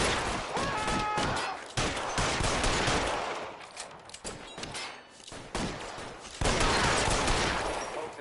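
Loud bursts of gunfire in the video game L.A. Noire, with rapid volleys and shots coming in clustered waves, broken by brief drops, and a few faint shouted voices mixed in.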